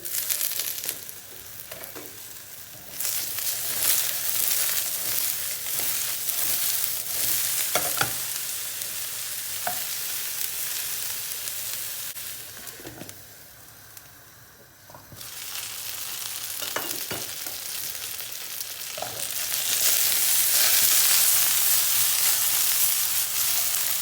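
Eggplant fries in hot oil with a loud, continuous sizzle and occasional stirring scrapes; the hiss swells and fades as pieces are moved.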